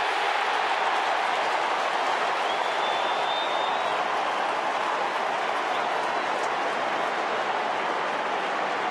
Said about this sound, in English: the noise around the MCG right now has been turned up a notch